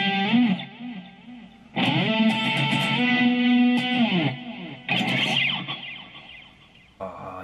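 A Tokai Talbo electric guitar through a BOSS GT-1 tape echo effect: chords and notes ring out with a warbling echo, phrases separated by short pauses, fairly loud and without any talking.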